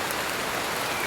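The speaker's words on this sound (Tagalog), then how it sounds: "May tumutulo na ulan, no?" Steady rain falls and drips onto nearby surfaces in a continuous, even patter with no voices.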